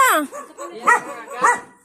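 A small dog gives three quick, high-pitched yappy barks, close by, each short and sharp with a brief pause between.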